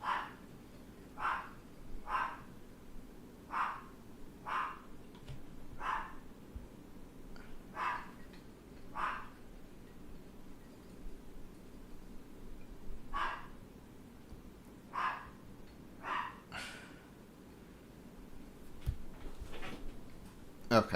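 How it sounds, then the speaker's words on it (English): A dog barks repeatedly in short, sharp bursts from another room, spaced irregularly through the whole stretch, moderately loud behind a quiet indoor background with a little speech. "Sorry, my dog's barking."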